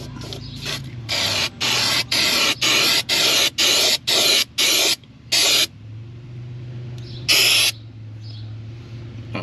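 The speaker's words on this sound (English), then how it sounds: "Going to hit it with a little primer." Primer sprayed from an aerosol can onto a car's trailing arm: about a dozen evenly spaced hissing bursts close to the mic, then a pause and one more longer spray, over a low steady hum.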